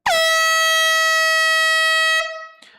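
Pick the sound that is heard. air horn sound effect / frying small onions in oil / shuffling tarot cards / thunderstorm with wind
air horn sound effect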